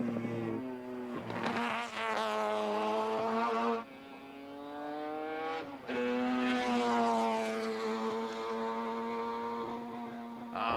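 Allan Moffat's number 43 Mazda touring race car at Mount Panorama, engine screaming through the gears as it approaches and passes, with sharp drops between shifts and a strong rising, then falling whine, loud and close.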